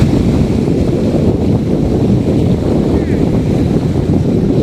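Strong wind buffets a beach near Ramanathapuram where a fishing boat rocks at the shore. A dense, steady roar of gusts mixes with surf, loud and continuous throughout.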